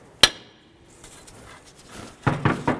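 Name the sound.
hammer tapping tie rod end on Dodge Durango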